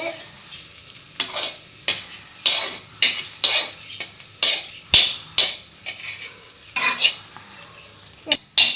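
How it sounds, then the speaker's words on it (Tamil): Hot oil sizzles in a pan as pepper and masala are stirred in. Sharp scraping strokes of the spoon repeat roughly every half second to second over a steady, close frying hiss, with no talking. "எண்ணெய் கொதிக்குது."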